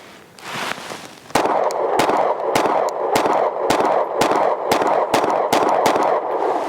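Rapid pistol gunshots from a Glock fitted with a Timney Alpha competition trigger and firing 124-grain rounds, about a dozen sharp, loud cracks in a quick, fairly even string with short gaps between them.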